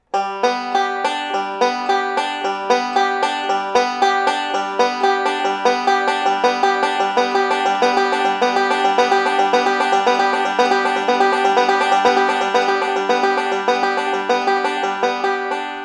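A banjo plays a basic roll with thumb, index, thumb, middle fingering, a rapid, even stream of bright plucked notes repeating throughout, close and loud with no talking.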